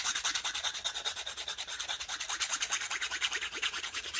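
Nail file rubbed over hardened resin overflow on the edge of a sea foam beach resin coaster, a fast, even back-and-forth rasping with regular strokes, close and steady, with no voices.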